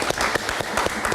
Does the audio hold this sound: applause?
yes